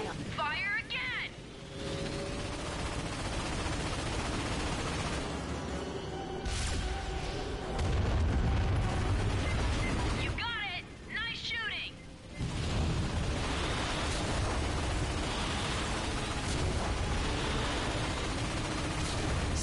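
Heavy ion cannon blasts and rumbling energy fire in Ratchet and Clank (PS4) roll on and off, with brief warbling electronic tones in between and a voice speaking over parts.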